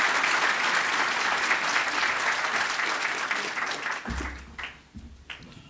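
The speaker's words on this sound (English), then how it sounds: "Let's give all of us a round of applause to the speaker." Sustained audience applause at a lecture hall event, loud and dense at first, then thinning into scattered claps and fading toward the end.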